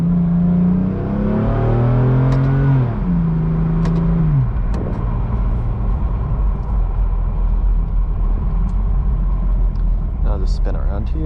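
A 2018 BMW M4 Competition accelerates hard through the gears with rising engine pitch, a sharp exhaust crack or two between shifts, then settles into road rumble with occasional clicks and knocks.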